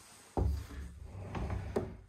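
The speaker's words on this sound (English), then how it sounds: "sliding glass doors" A sliding glass door in a house is pushed open, a sudden thump followed by a rolling, rumbling slide and a couple of softer knocks, close and fairly loud.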